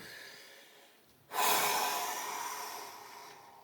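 After a quiet pause, a person takes one sudden, forceful deep breath, then a long, steady rush of air trails off.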